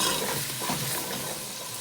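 Onion sizzles in oil while being stirred, a dense close crackling hiss with scraping motion running without a break for under two seconds.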